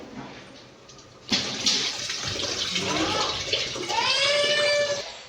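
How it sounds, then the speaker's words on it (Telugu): Tamarind juice is poured into cooked lentils for sambar, starting abruptly as a splashing, gurgling pour that continues close by for several seconds. "చింతపులుసు యాడ్ చేసుకున్నాం పప్పులో"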